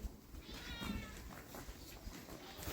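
A cat meows nearby several times in a short stretch, fairly faint, over low background noise.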